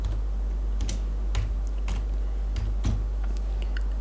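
Keys clack on a computer keyboard as a book title is typed into a search box, a handful of separate, fairly crisp taps spaced irregularly over a steady low electrical hum.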